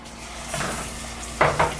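Gochujang chili paste being stir-fried in a pan for braised potatoes, heard as soft scraping and stirring, then two louder, close scrapes of a utensil near the end.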